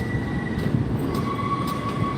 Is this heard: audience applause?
no